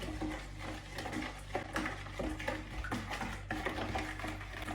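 Batter for vareniki dough is whisked in a bowl, with rhythmic scraping and clinking strokes repeating steadily and close at a moderate level throughout.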